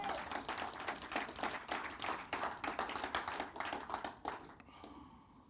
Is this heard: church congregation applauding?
yes